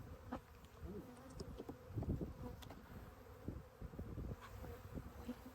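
Honey bees drone steadily inside a long-abandoned hive opened for its first inspection in years, the dense buzzing continuous and close throughout with small bursts of louder wingbeat.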